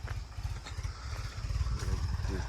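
A tractor rumbles past at a farmhouse with a loud, low, throbbing engine chug and some rattling clatter, steady and close throughout.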